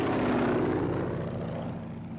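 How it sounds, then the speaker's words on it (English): Vintage Stearman biplane engine and propeller running loud and close, a steady rough drone with a chopping low throb that fades slightly over a couple of seconds. "it makes the best noise of any airplane I know"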